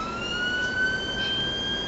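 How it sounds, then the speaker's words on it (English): An emergency vehicle siren wails steadily in the distance, heard from inside a car moving through traffic near a roundabout, with road and engine rumble underneath and no talking. "I can hear a siren."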